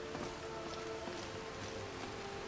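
Steady rain pours down in the game Skyrim, a continuous even hiss of drops heard alone at moderate level.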